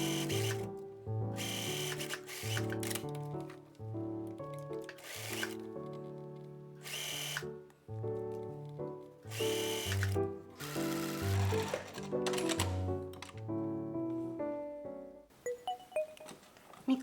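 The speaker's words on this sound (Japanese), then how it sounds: "見返しの肩線を縫います。" Sewing machine stitching the shoulder seam of a facing for an A-line dress with a front tuck opening, running in a series of loud mechanical bursts separated by short pauses, close to the microphone with no talk.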